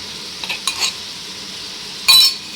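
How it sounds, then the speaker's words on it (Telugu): Ginger-garlic paste for chicken pulao fries in a pan, a soft low sizzle broken by a few brief scrapes of a spoon stirring and one sharper clatter near the end. "ఇప్పుడు అల్లం వెల్లుల్లి పేస్ట్ వేసుకోవాలి"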